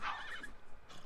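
A horse in The Sims 3 gives a short, bright whinny, loud and close, with no voices over it.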